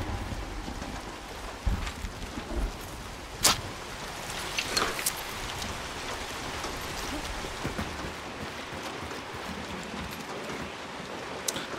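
Steady rain falls in the Hunt: Showdown game, an even, faint hiss of drops with a few brief louder splashes and knocks scattered through it.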